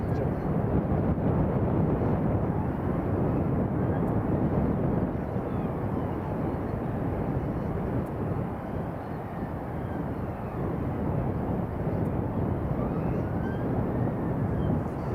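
A jet on approach to Edinburgh's runway 24, apparently an American Airlines A321neo arriving from JFK, roars as a steady, broad, distant rumble that holds for the whole stretch amid some wind buffeting.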